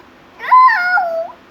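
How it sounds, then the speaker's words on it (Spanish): A cat gives a single clear meow, loud and close, lasting about a second in an otherwise quiet room. "el gato."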